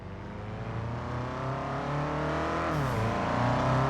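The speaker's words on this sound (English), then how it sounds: "He didn't notice the car approaching him until it pulled over." A car engine hums steadily and grows slightly louder as the vehicle approaches, then the pitch dips and shifts as it slows and pulls over, a smooth close motor drone with no voices.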